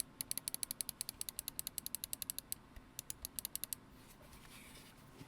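A vertical computer mouse is clicked rapidly and crisply, about two dozen close, sharp clicks in a quick, fairly even run before it falls quiet.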